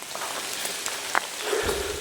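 Rain falls steadily outdoors, a soft, continuous hiss with scattered patters nearby, heard alone without voices.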